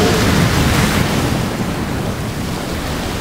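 The Cyclops submarine from Subnautica plunging into the sea: a loud, rushing splash and surging water that slowly settles into a fading wash.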